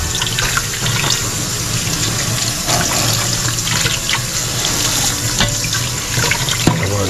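Harvested herbs rinsed in a bowl under a running kitchen tap, with a steady splashing stream and occasional water sloshing, close and continuous.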